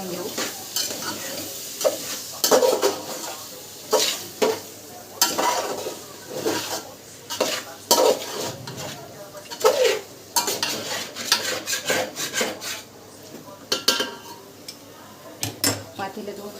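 Chicken biryani masala being stirred in a pot with homemade turmeric, spoon scraping and clinking steadily with a faint sizzle throughout, close and moderately loud, with no talking.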